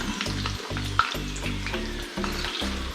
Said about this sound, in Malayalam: നമ്മുടെ കാടയെല്ലാം നല്ല ഫ്രൈ ആയി വന്നിട്ടുണ്ടല്ലേ